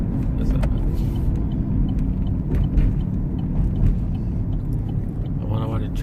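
Traffic heard from inside a moving car: a steady low road rumble and engine drone fills the cabin throughout, with people talking over it.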